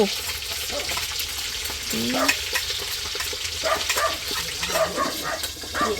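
Mackerel fries in a pan with a steady sizzle and crackle, broken by scraping stir strokes and occasional clatter, close and busy throughout.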